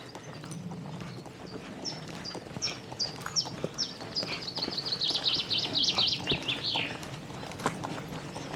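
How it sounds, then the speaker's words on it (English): Birds sing outdoors in a pine woodland at a national nature reserve, a string of bright chirping phrases building in the middle, fairly near, over steady footsteps and low outdoor rumble. "Lovely hearing the birds singing."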